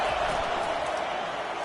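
Stadium crowd roaring in College Football 25, a broad, sustained wash of cheering noise filling the whole short stretch, with an announcer's voice faintly mixed in.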